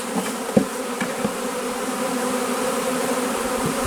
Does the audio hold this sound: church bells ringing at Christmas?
no